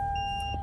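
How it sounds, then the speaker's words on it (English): Dash camera installed in a 2023 Toyota Sequoia Limited giving a sustained electronic tone inside the cabin over a low vehicle rumble. "Those couple beeps, that's just from the dash camera that's been installed in the vehicle."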